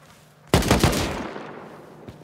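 Gunfire in a multiplayer survival shooter: one sharp, loud burst of rapid shots cracks out and rings into a decaying echo, then a fainter single report follows near the end.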